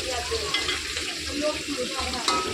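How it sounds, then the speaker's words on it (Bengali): Fish pieces frying in a large kadai of oil, cooked in batches for a crowd, giving a steady, close sizzle and crackle with occasional stirring clinks throughout. "দেখো, হাফ হাফ করে মাছ এখানে ভাজা হচ্ছে।"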